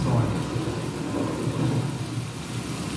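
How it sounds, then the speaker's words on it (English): A thunderstorm sound effect in a staged retreat skit, with a steady wash of heavy rain and low rumbling thunder that stays loud and continuous throughout, with no voices. "It is lightning out, and I cannot return home in this storm."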